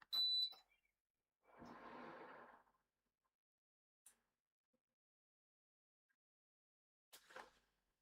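An air conditioner sounds a short electronic beep when switched on, followed by a soft whooshing burst and a few faint clicks in an otherwise quiet room.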